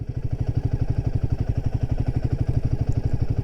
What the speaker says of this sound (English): Just testing the throttle.